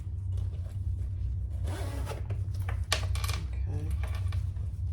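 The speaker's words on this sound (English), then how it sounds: "Just make sure that you have not twisted your zipper." A zipper on a sewn crossbody bag is handled up close, giving a few short rasping pulls and clicks over a constant low hum.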